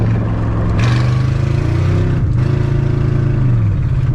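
A 1955 Chevy fitted with a 305 V8 rumbles along gravel. Its low engine note rises and falls through a rev, with tyre crunch and rattles underneath, close and loud throughout.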